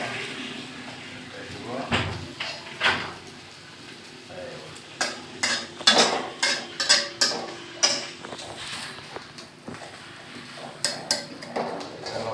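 Cabbage and egg fry being flipped and stirred in a pan, with repeated scraping clatters of a utensil against the pan over a soft sizzle, while a person talks nearby.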